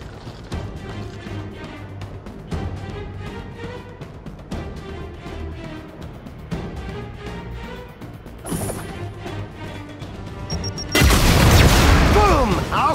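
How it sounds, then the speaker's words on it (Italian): A blindly thrown grenade explodes in the video game Gears 5, a loud crashing blast near the end that follows a long stretch of game music and effects under an Italian voice. "Tieni giù la testa e lancia la granata alla cieca."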